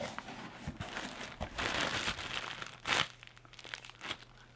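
Knife slices through a shipping package, giving crinkling and tearing of plastic and cardboard in short close bursts, with a sharp rip near the end.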